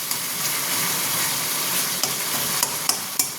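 Tomatoes and prawns sautéing in a hot pan, a loud, continuous sizzle and fry with a few sharp clicks of a utensil scraping and stirring near the end, no voices over it.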